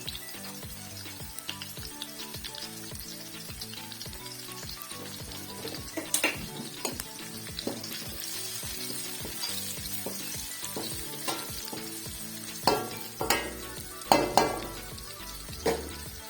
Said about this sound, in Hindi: हमने तड़का जो है वो लगा दिया है कढ़ी को